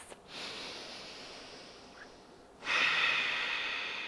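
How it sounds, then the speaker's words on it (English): Slow, deep breathing during pregnancy yoga: a long airy exhale, a pause, then a sharper audible inhale, close and soft with no talking. "otherwise we're gonna take 2 more breaths"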